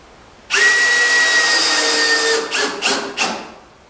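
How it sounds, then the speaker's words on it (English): A power drill drives a screw into the center of a wooden skiff under construction. There is one loud, close whirring run of about two seconds, then a few short bursts as the screw seats. "I'm just going to put a screw in that center one."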